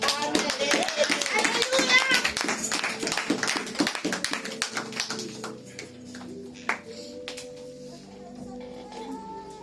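A church congregation claps and cheers for Jesus, with dense applause for about four seconds that then thins to scattered claps, and voices heard in the background.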